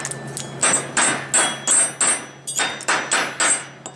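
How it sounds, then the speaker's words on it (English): A hammer chipping slag off a 7024 stick weld, about a dozen sharp metallic strikes in quick irregular succession, close and loud over a faint steady hum. "we won't really know until we clean the slag off of here now"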